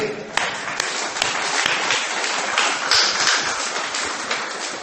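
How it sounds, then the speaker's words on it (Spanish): Church audience applauding for Rey during a sermon, a burst of dense clapping lasting several seconds, close and loud with sharp individual claps standing out. "Denle un aplauso a Rey."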